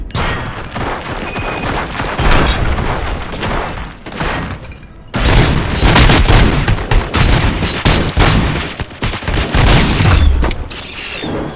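Gunfire in the game Robocop: Rogue City, loud and continuous, with rapid shots and booming impacts mixed with mechanical clatter and crashes, growing heavier partway through, with no talking.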